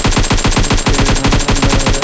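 Rapid automatic gunfire in the mobile game PUBG Mobile, a loud, continuous burst of evenly spaced shots with no pauses.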